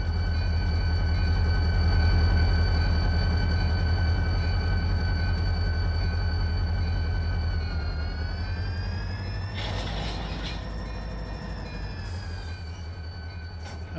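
A long freight train rumbles in the Run 8 train simulator game with a steady, loud, droning engine hum and tonal whine that shifts pitch partway through. A few brief clanks come near the end.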